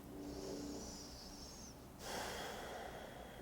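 A deep breath during a yoga session, a long airy inhale followed by a fuller exhale, close and fairly quiet with no talking.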